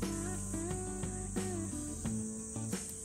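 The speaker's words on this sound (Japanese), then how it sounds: "セミが鳴いてるじゃないですか" Cicadas chirp steadily in a hot summer forest at a campsite, a dense continuous buzzing drone layered with repeating rhythmic calls, loud and close with no talking.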